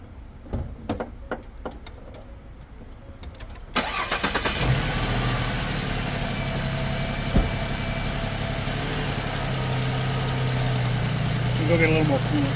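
A 2015 Ford car that is low on coolant and overheating cranks briefly and catches, then settles into a steady close idle with a slight knock. Quiet clicks and a voice come before the start.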